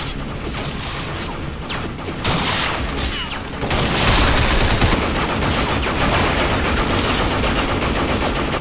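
Heavy gunfire in Binary Domain, with sustained automatic weapons rattling loud and close alongside mechanical clatter. It starts moderate and swells into a thicker, denser barrage partway through.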